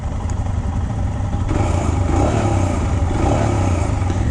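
A Royal Enfield Himalayan Scram 411 with a single-cylinder 411 cc engine runs loudly and close by, a steady thumping drone that swells slightly as it revs, with no voices.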